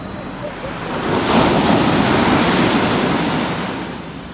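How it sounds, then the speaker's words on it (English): Ocean waves break on a beach in Krabi, Thailand, a loud, steady wash of surf that swells in the middle and then eases, with wind rumbling across the microphone. "the waves seem like they're getting bigger here."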